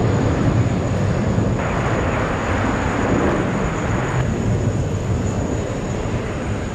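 Starlux Airbus A350-1000 in special livery at JFK airport, a steady broadband jet roar close by, loud and continuous with no talk over it.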